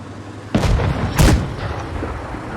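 Cannon fire from an M-VII-YOH tank in a tank battle video game: two heavy, booming shots about two-thirds of a second apart, close and loud, each followed by a brief rumbling decay over faint background noise.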